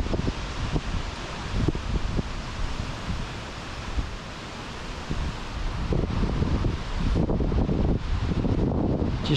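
Strong wind roars and buffets the microphone in uneven gusts while fishing, a constant rushing rumble with no talking.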